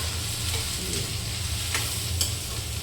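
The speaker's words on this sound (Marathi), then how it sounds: "तर बघा बघा आला की नाही आवाज तेलाचा" Onions frying in hot oil at the side of a pan for gosavde vegetable, a continuous close sizzle with a low hum beneath and a few sharp crackles.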